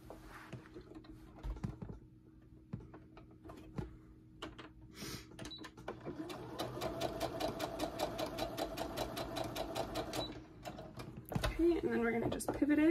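Sewing machine stitching a tee shirt, at first a few scattered clicks and handling noises, then a rapid, even mechanical stitching chatter that runs for several seconds before stopping, close up and fairly quiet.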